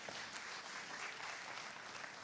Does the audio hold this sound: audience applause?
yes